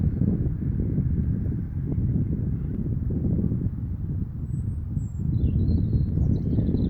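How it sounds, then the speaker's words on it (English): Strong gusty wind on open downland buffeting the microphone, a heavy continuous low rumble that swells and dips, with a few faint bird chirps high above it. "Having a bit of a fight with the weather here, as you can probably tell, and it is quite gusty"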